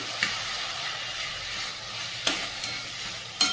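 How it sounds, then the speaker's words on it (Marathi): Chopped tomatoes and onion sauté with soybean keema in a hot pan, a soft continuous sizzle broken by a few sharp scrapes and knocks of a stirring spoon. "अशा प्रकारे टोमॅटो कांदा परततोय"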